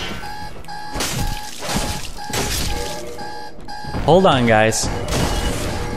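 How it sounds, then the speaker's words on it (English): A bedside alarm clock going off early in the morning: a steady series of rapid electronic beeps repeating throughout, with someone talking briefly over them. "It is early, so that is my alarm."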